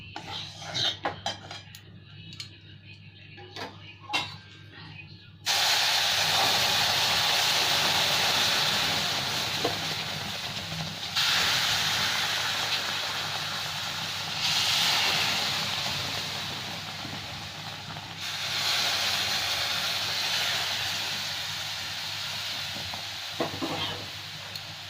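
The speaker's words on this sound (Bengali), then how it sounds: "এবার আমি গরম জলটা দিয়ে দেবো।" Hot water poured onto roasted semolina (suji) for halwa: after a few quiet clinks, a sudden loud, sustained hiss of steam and bubbling erupts and surges in waves.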